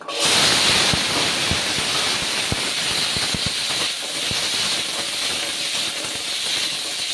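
Cut and washed hog plums go into hot oil with five-spice (panch phoron) and set off a loud, hissing sizzle that starts abruptly, then holds steady. A few spoon clacks sound over it.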